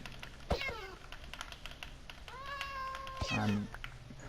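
A cat in the video game Minecraft gives a couple of meows, one brief and one longer and drawn out, while someone talks over the game sounds.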